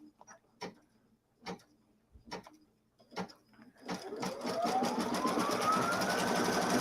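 Sewing machine stitching two layers of lofty quilted fabric, a few separate clicks and thumps first, then a steady whirring run that rises in speed and holds, fairly close and alone.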